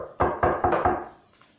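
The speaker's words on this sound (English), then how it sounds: "he heard the sound of knocking on his front door again" Four firm knocks on a wooden front door, evenly spaced and close, each with a short resonant ring, fading into a quiet room afterward.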